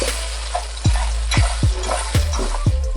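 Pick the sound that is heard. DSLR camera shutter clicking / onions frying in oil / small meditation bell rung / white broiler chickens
onions frying in oil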